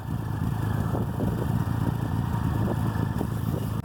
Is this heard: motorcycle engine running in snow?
yes